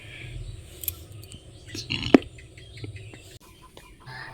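Village hens and fowl cluck and squawk near a coop at evening, a few close throaty calls and one sharp squawk amid rustling and light movement, no talk.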